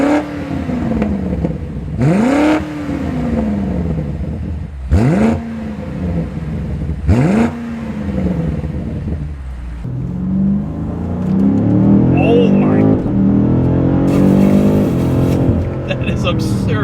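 A BMW M5 CS engine revs up sharply three times in quick blips, then holds a longer rising roar; close and loud.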